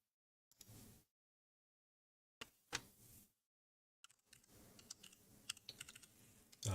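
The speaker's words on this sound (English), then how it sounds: "So I'm just typing in these coordinates" Typing on a computer keyboard in three bursts of quick, close clicking, with silent gaps between the short runs and a longer final flurry, quiet overall.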